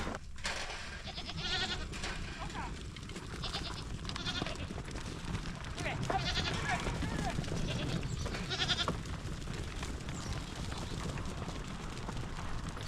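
Nanny goats bleat again and again at feeding time as alfalfa pellets are poured out, their calls rising over a steady farmyard bustle with a few hoof clops.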